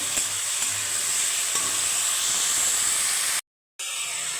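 Potatoes and a carrot stir-frying with onion in a pan while cooking gime greens, a loud continuous sizzle and hiss with scraping stirs, briefly cutting out near the end.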